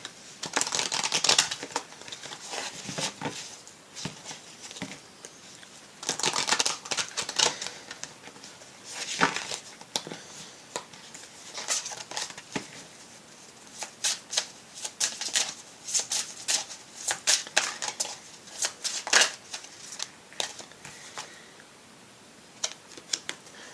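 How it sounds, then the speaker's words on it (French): Tarot cards being reshuffled by hand, a long run of crisp papery riffles and slaps in uneven bursts, close and clear with no talking. "Alors, je vais rebrasser"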